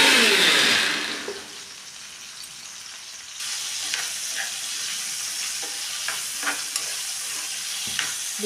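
Cauliflower florets fry in oil in a pan for gobi palya, a soft continuous sizzle that begins loud, drops to a quieter crackle, then rises again with small scraping stir sounds scattered through.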